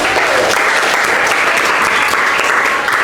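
A classroom of students applauds, dense continuous clapping that stays loud and even throughout.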